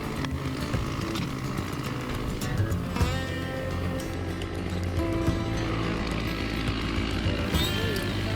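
Chainsaw cutting into a chinkapin oak during tree felling, the engine droning loud and steady at high revs with slight wavering pitch as the chain bites into the wood, close by and continuous.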